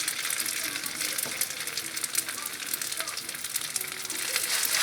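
Oil sizzles steadily in a frying pan as food is added, a dense crackling hiss close up and continuous, with occasional small pops and clicks and no talking.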